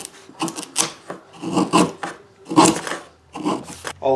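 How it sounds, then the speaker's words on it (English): Wooden back braces on a dreadnought acoustic guitar back being tapered and sanded to 220 grit, giving a series of close rasping strokes roughly once a second with short pauses between. "All the back braces are tapered and sanded to 220 grit."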